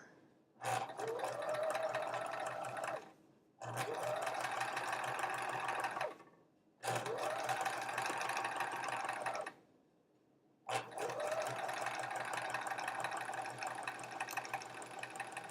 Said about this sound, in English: we'll flip it around and sew the other angle